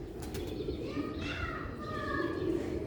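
Pigeons coo softly under nearby talk, with a few low murmuring calls, light wing flutters and a faint chirp against a steady background.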